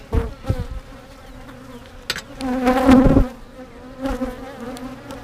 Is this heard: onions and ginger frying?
no